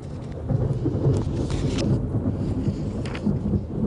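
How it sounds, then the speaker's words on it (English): Thunder from a heavy storm cell in Southern California: a low, continuous rumbling roll beneath steady wind and rain noise, with a few faint crackles. "We haven't heard thunder like that in a while in Southern California, but it roared when it hit that heavy storm cell"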